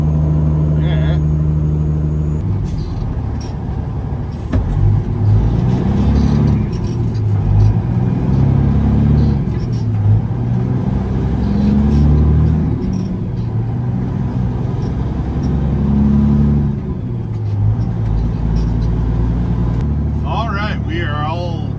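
A truck hauling mulch cruises along an Idaho highway, its engine a steady low rumble with road roar, heard from inside the cab, with people talking over it throughout.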